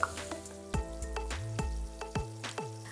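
Okra pieces fry in hot oil until crisp, a close, steady crackling sizzle punctuated by repeated sharp knocks and clatters at a regular pace, with no voices.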